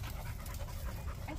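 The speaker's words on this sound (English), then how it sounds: "Oh my god, the dogs." Steady, rapid dog panting close by, a continuous breathy rhythm with no voices over it.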